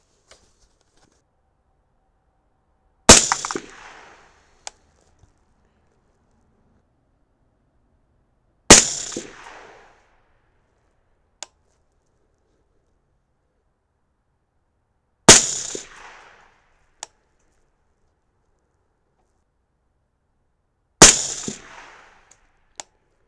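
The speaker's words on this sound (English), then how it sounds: "So let's just shoot these last five and see what happens." Four sharp, loud 6.5 Grendel rifle shots firing 123gr Sierra MatchKing loads, evenly spaced several seconds apart at an outdoor range, each cracking and then decaying, with faint small clicks between them.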